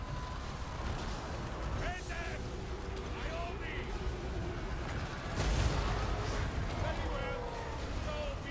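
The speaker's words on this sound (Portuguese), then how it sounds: "É canhão pra todo lado, é magia, joga tudo." Cannon artillery fire booms in a Total War: Warhammer II battle, with repeated thuds and one louder blast among clashing battle noise at moderate level.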